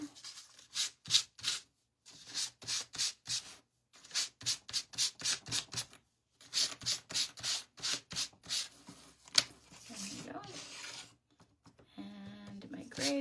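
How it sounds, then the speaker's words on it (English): A small painted wooden duck craft is sanded by hand in quick, rhythmic rubbing strokes, close and crisp, in short runs with pauses, followed by quieter handling and a brief voice. "just a quick little sand job will take us back to having a nice smooth surface"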